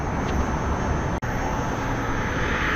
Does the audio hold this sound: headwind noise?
yes